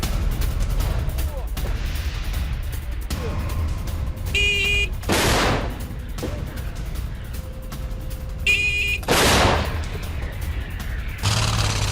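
Ukrainian soldiers fire a howitzer during military exercises, heavy booming blasts sounding out amid continuous rumbling background noise, with voices talking throughout.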